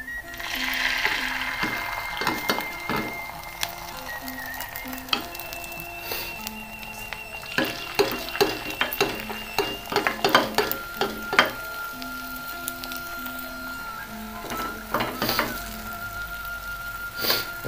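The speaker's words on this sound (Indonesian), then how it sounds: "kalau udah panas kita masukkan ya telurnya" Eggs fry in hot oil in a multi-hole pan, one spoonful per hole, giving a soft steady sizzle broken by frequent clinks and scrapes of utensils against the pan.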